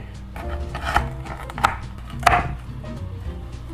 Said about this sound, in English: sharp knife, we're gonna cut this into 1/2-inch pieces.